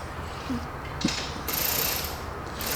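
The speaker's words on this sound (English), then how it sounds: "Pull straight back on the ratchet." A ratchet works on a spark plug in the engine bay of a 2015 Dodge Charger Scat Pack, giving a few faint clicking, ratcheting turns against a steady background hum.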